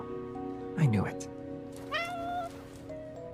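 A playful kitty in the video game Love and Deepspace gives a couple of short meows amid background game music, one near the start and another midway.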